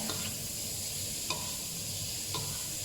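Ground pork stir-frying in a pan, a steady low sizzle with a few faint scrapes of a utensil every second or so.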